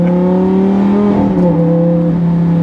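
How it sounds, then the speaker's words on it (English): A 2014 Lamborghini Gallardo LP550-2 with a manual gearbox pulls hard from inside the cabin, its engine tone droning steadily and then shifting pitch midway as a forceful gear change hits, loud and continuous. "It hits you in the back with those gear changes because it's literally a manual."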